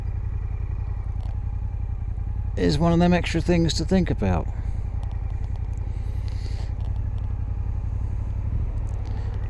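Steady motorcycle engine drone and wind rumble picked up by a microphone inside a rider's helmet while cruising around Felixstowe, continuous and close, with someone talking briefly over it partway through.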